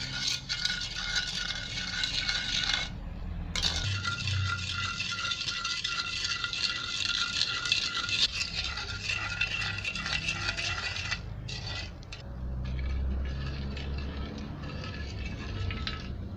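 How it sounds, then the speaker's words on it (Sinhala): A spoon stirs and scrapes in a pot of sugar syrup for jalebi, dissolving the sugar on the stove, giving a steady close rattling and scraping that continues throughout, with brief pauses. "ඊට පස්සේ අපි මේක ටිකක් මේ විදිහට හැඳි ගන්න ගමන් අපේ මේ සීන් ටික දිය කරගන්න ඕන."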